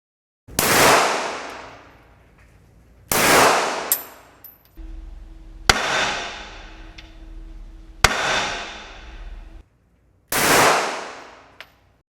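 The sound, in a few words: Glock 19 handgun shots fired at range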